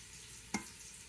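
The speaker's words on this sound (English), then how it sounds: "Bacon's rendering nicely." Bacon renders and fries in a pot with a faint, steady sizzle and one brief, sharp clink or tap partway through.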